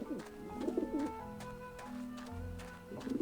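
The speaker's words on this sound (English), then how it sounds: "There are the pigeons." Pigeons coo in the video game Grim Fandango, soft repeated burbling calls in short bursts over a quiet background hum.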